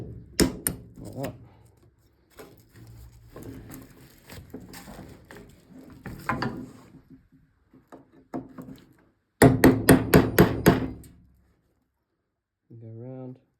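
Rivets are knocked out of a Rans S6 light aircraft with sharp metallic taps, sometimes single, sometimes in quick bursts, including a loud rapid cluster near the end. Someone talks quietly between the strikes.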